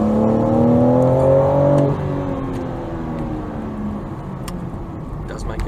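A 2022 BMW M4 Competition Convertible with M xDrive accelerates hard, engine note rising through the gears before easing off into a steadier rolling whir as the car cruises on.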